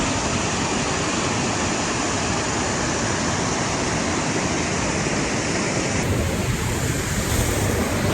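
Broadband roaring rush of a mountain waterfall on a high trekking route toward a pass, loud and steady throughout with some wind buffeting the microphone, no voices.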